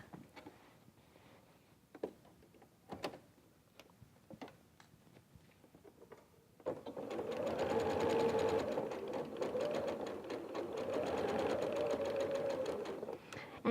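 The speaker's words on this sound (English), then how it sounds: "so we'll stitch that in place." Sewing machine stitching fabric for a purse runs in a steady, fast whirring hum for about seven seconds, preceded by scattered light ticks and handling clicks, close and without speech.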